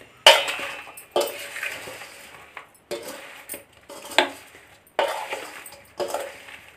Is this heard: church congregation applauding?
no